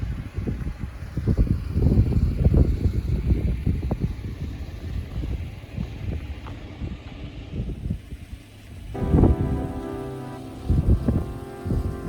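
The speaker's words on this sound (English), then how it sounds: "It is windy and blustery and wet." Gusty wind buffets the microphone with rain pattering steadily on the Dempster Highway at the Arctic Circle, loud rumbling bursts rising and falling, with a brief tonal vehicle or engine sound near the end.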